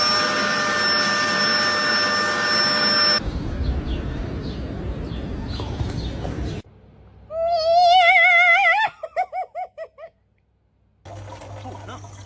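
A cat meows in a short series of rising, wavering calls near the middle, loud and close, with household noise and a brief low hum before and after.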